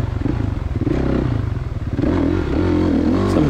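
A 2016 Kawasaki KX 450 dirt bike ridden at Hoover Ponds, its engine close and loud, pulsing rapidly then rising into a higher, steadier rev with some clattering from the ride.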